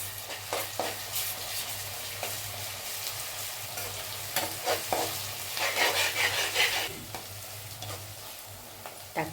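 Hand-pounded ginger garlic paste sizzles and fries in a pan for paneer butter masala, with a steady, quiet crackle broken by occasional scraping stirs and a brief louder hiss.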